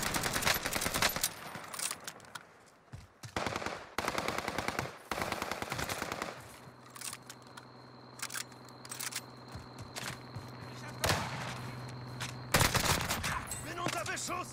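Bursts of automatic gunfire in a video game come in rapid volleys with short pauses between them, some loud and close, and a voice speaks now and then over the shooting.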